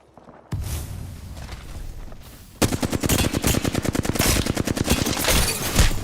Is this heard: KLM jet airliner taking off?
no